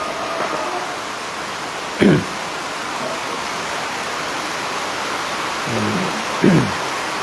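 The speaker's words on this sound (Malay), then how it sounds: "Hujan, hujan." Steady rain keeps up a broad, even hiss, with a few short voices cutting through it.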